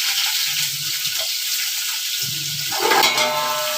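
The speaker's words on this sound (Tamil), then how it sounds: "ஆயில் ஊற்றிட்டு பட்டை லவங்கம் எல்லாத்தையும் போட்டு நல்லா வதக்கணும்" Cinnamon, cloves and green chillies fry in hot oil with a dense, close sizzle, a few soft stirring scrapes, and a brief louder burst of hissing near the end.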